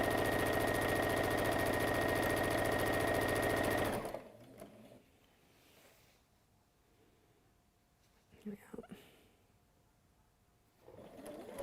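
A sewing machine worked by a foot pedal, stitching fabric strips together, runs loud and steady for about four seconds, then stops, leaving a quiet room with a few faint clicks.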